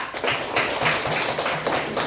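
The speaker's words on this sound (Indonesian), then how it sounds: "tepuk tangan dulu untuk adik Siva" Students in a classroom clap for a classmate, a quick run of sharp, fairly near claps that holds steady for a couple of seconds.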